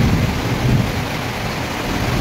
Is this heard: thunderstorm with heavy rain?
yes